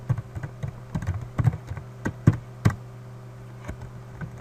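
Keys clacking on a computer keyboard in a quick, uneven burst of close taps, then slowing to a few spaced keystrokes, over a low steady hum.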